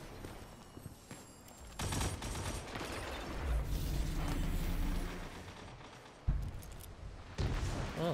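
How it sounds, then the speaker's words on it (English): An explosion goes off outside during a multiplayer video game match, a loud rumbling burst with booming low-end swells and sharp impacts layered over ongoing game noise. "Oh, something exploding outside."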